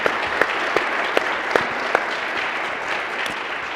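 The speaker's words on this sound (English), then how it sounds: "a round of applause for our panelists" An audience claps for panelists at a business conference, a steady even round of applause in a large room with a few sharper individual claps standing out near the start.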